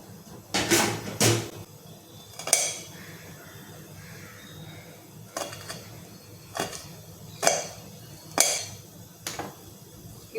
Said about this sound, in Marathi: ती मिरची कट करून टाकते